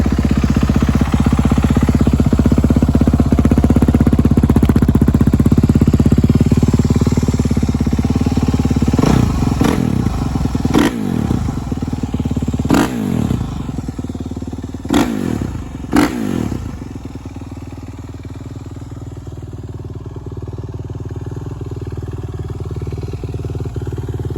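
A 2013 to 2015 Kawasaki KX450 dirt bike engine fires up and runs loud and close, with several sharp rising and falling revs in the middle before settling into a steady idle.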